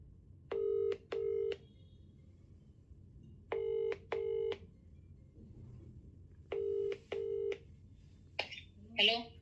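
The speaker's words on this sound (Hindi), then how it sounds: "चलो सबसे पहले तो उसको फ़ोन मिलाते हैं।" Phone dialing a call: three bursts of paired keypad tone sequences, spaced evenly and clean against quiet room noise, followed by a brief faint voice at the end.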